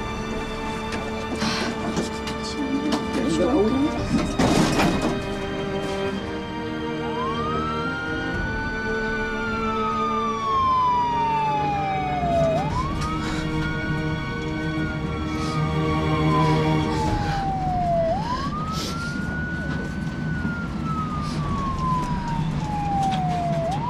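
An ambulance siren wails in repeated slow rising and falling sweeps, three long cycles over steady engine and road noise.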